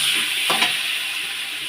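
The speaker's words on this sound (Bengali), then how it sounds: "তেলের মধ্যে আমি দিয়ে দেবো ক্যাপসিকাম তারপরে ভেজে নেব" Capsicum frying in hot oil, a steady soft sizzle and hiss throughout, with a couple of faint stirring knocks.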